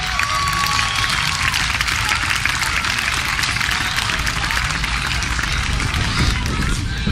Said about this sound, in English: 10th place, please stand up, take your applause.